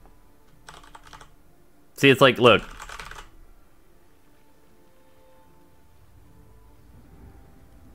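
Faint clicks from a computer keyboard come in short bursts during a Teamfight Tactics game session, with a person talking loudly for a moment in between.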